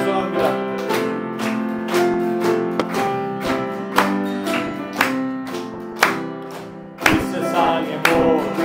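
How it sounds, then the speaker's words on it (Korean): Congregation claps in steady rhythm while singing a hymn together at a Sunday communion service, the sharp regular beats sounding over sustained voices and accompaniment. "박수 치면서 찬송합니다"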